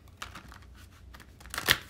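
Tarot cards being shuffled during a reading, soft papery riffles and crinkles with a sharper burst of card flicks near the end, close and quiet.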